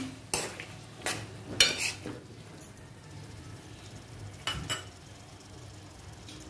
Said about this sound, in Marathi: हे शेंगा बटाटे आहेत ना ते घालून घेऊया। व्यवस्थित असं परतवून